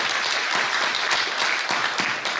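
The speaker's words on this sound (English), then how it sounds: "So let's give them a big round of applause" A room full of people bursts into hearty applause, a loud, close, continuous wash of clapping that holds steady throughout with no talking over it.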